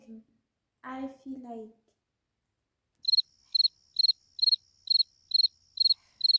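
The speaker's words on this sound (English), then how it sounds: "Crickets." Crickets chirp in a regular series of short, high pulses, clear and fairly close, after a brief stretch of voices at the start.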